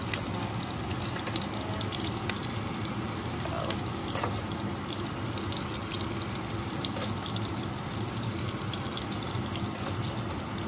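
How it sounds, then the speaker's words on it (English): Meatballs sizzle in a pan over medium-high heat for an Italian meatball recipe, with a dense continuous crackle and spatter that stays even throughout, close and fairly loud. "I'm just gonna put in the meatball to cook on all sides."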